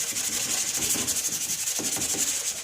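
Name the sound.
mouse sander wet sanding cloudy headlight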